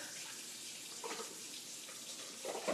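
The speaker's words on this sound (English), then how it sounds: "I got to go to my sink real quick to rinse these off." Tap water runs steadily into a kitchen sink while green beans are rinsed, a soft, even hiss with faint splashing throughout, heard at moderate distance.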